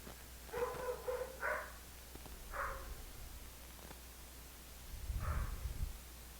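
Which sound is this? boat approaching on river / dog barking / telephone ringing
dog barking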